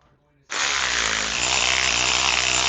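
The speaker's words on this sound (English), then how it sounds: "I'm going to take my tool, a ratchet. I'm going to place it on." A ratchet drives a bolt down on a homemade camera stick, starting abruptly after a moment of faint talk and then running as a steady, loud, close-up mechanical whine.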